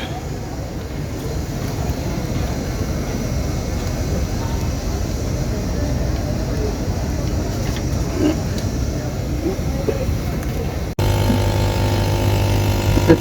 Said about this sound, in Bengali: আপনারা দেখতে পাচ্ছেন আমাদের কম্প্রেসরটি চালু দিয়েছি।